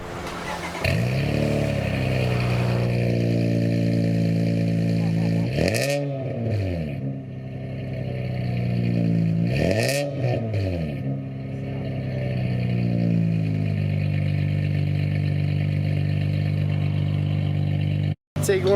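Infiniti J30 engine with new headers starting and idling, then revved twice with rising and falling swells before settling back to a steady rumbling idle, loud and close.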